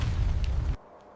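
Massive explosion as bombs ignite fuel trucks in a wartime supply convoy, a loud, heavy low rumbling blast lasting under a second before cutting off abruptly to quiet.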